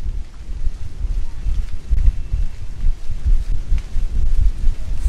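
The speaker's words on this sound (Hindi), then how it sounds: "ये बहुत ज्यादा हवा चल रही है यहाँ पर" Strong wind buffets the microphone at an abandoned bungalow, with gusty low-frequency rumble rising and falling throughout.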